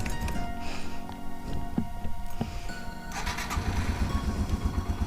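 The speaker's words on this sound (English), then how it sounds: "just start the bike up and just let it idle for a little bit" A Yamaha TW200 motorcycle is started and left idling: the engine cranks and catches, then settles into a loud, close, steady single-cylinder idle with a rhythmic low thump.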